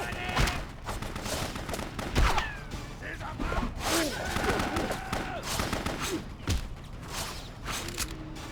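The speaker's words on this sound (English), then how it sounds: "Now they're hitting me with their rocket launchers." Enemy rocket launcher fire in the BloodRayne video game: loud explosive blasts and impacts burst in an irregular barrage, mixed with gunfire, clanks and other game effects, and speech is heard alongside.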